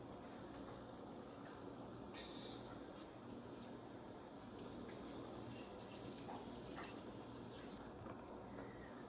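Water runs at a sink onto a potted Phalaenopsis orchid, a faint, steady trickle with small scattered drips and splashes throughout.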